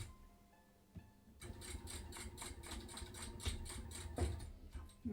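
A sewing machine stitches a fabric pouch in rapid, evenly pulsed bursts, starting after a brief quiet moment with a click, running close and clear with a slight pause near the end.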